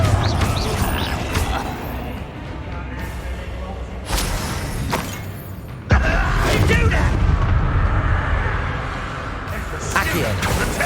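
Confringo blasting spell explosions erupt in Hogwarts Legacy gameplay, sharp booming blasts at intervals over a loud, busy combat bed of effects and music.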